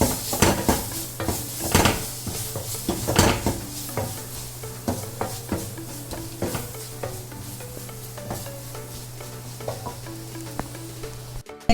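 Crab curry masala with Kashmiri chilli powder sizzles in a pan as a spoon stirs it, producing repeated scraping strokes and knocks against the pan over a steady low hum.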